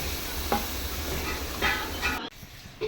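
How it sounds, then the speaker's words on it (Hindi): Onion paste going into hot oil for chicken karahi, a continuous sizzle and frying hiss with a few scraping stirs, dropping quieter near the end. "अब ये डाल दिया मैंने प्याज का पेस्ट।"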